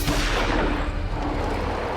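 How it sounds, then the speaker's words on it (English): A gunshot, heard as a dull, distant boom under a steady wash of background noise, muffled rather than sharp. "he hears a gunshot"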